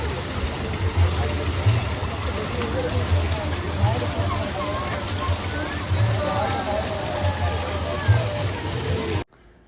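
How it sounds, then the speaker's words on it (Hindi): Steady splashing and rushing water from a nearby restaurant fountain in Karachi fills the scene, with a continuous watery wash and occasional low thumps, then cuts off abruptly. "ये जो फाउंटेन थी, पानी की आवाज़ होती है ना"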